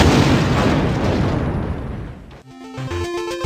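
A loud, crunching bomb explosion effect from a Tetris video game, a sustained noisy burst that fades after about two seconds into plain electronic game tones.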